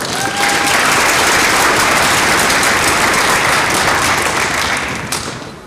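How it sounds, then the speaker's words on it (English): Applause from a concert audience for an honor orchestra fills a hall as a loud, dense wash of many hands clapping for several seconds before tapering off at the end. "So big round of applause for them."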